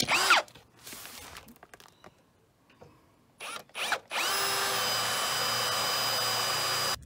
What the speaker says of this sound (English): had to drill one hole for that.